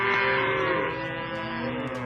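Cattle lowing in a farm setting, a sustained loud moo with layered harmonics lasting about two seconds, close and alone with no talk.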